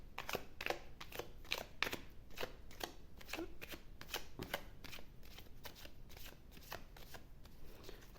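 Tarot cards shuffled by hand nearby, a steady series of soft riffling, flapping bursts repeating at a quick, even rhythm, quiet and without talk.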